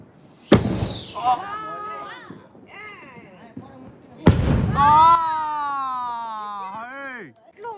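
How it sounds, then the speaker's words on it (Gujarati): Two sharp, loud bangs of a large Diwali firecracker a few seconds apart, each followed by excited voices shouting and a long rising whoop. "મોટો ફટાકડો ફોડવાની શરૂઆત કરી છે"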